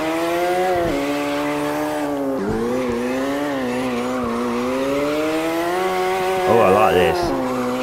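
A BMW E30 drifting in CarX Drift Racing Online, its engine droning steadily with revs rising and dipping and a sharp tire squeal near the end, while someone talks briefly over it.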